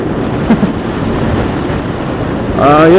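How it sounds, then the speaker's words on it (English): Heavy, constant wind buffeting the microphone on a motorcycle ride in California, a loud rumbling roar that never lets up, with a brief faint tone near the end. "it's windy today, so it's probably a lot of wind noise"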